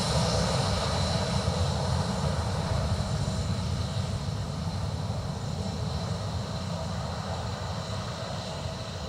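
An airliner's jet engines roar steadily at Dublin Airport, a broad, constant rumble that stays loud and even throughout with no talk over it.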